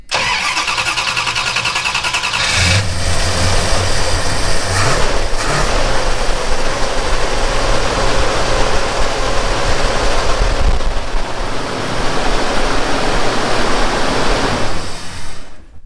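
A 1979 Chrysler Cordoba V8 fitted with an Edelbrock carburetor cranks, catches and settles into a loud, steady idle running on seven cylinders, close up with no talk.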